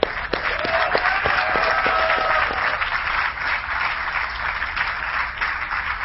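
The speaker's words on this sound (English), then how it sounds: "let's give one final round of applause for him" Audience applause at an esports tournament grand final, a sustained wash of many hands clapping with some cheers, loud and steady, tapering slightly toward the end.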